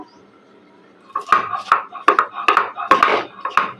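Boiled jackfruit seeds being ground on a flat grinding stone, heard as about seven close, loud, rhythmic scraping strokes, each a gritty rasp, after a quiet start.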